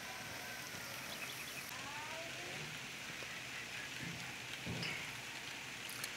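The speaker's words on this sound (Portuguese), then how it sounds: "muita chuva no Juazeiro, a terra do Padre Cícero." Heavy rain falling steadily in Pernambuco, Brazil, a constant broadband hiss of drops on surfaces with no breaks, fairly faint overall.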